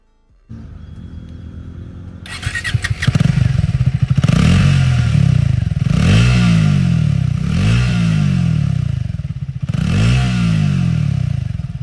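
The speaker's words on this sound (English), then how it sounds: "Let's check out its exhaust note." Triumph Speed T4 motorcycle firing up and revving, a low single-cylinder exhaust rumble that rises in four or five sharp throttle blips, each swelling and falling back to idle, close and loud with no talk.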